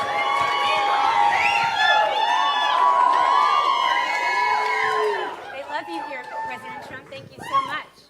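At a Moms for Liberty conference, a large crowd cheers and chatters, with loud overlapping shouts and whoops that swell and then thin out toward scattered voices and claps near the end.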